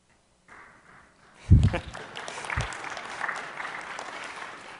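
An audience at a security conference talk on tamper-evident devices breaks into applause, starting with a single clapper before the rest of the crowd joins in. The applause is moderately loud and sustained, with a few sharp knocks near the start.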